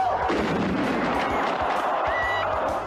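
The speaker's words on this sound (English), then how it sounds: "Japan has also blown up the ring with the wrestlers inside it." Explosives blowing up a wrestling ring in a Japanese exploding barbed wire death match, a loud, continuous crackling barrage of blasts and pops that keeps going throughout.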